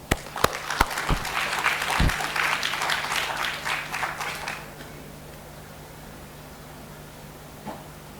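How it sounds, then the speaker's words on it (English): Audience applause welcoming a speaker to the stage at a faculty programme event, a few sharp early claps swelling into full clapping that fades out after about five seconds, leaving quiet room tone with a low hum. "give him a full round of applause"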